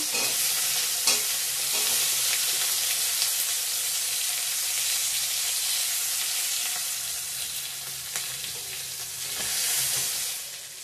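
Chopped onion and garlic dropped into hot oil already holding cumin, chillies and bay leaf, giving a loud, bright, sustained sizzle with faint clicks of stirring throughout.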